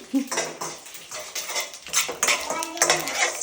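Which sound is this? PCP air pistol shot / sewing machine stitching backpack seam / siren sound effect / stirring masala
stirring masala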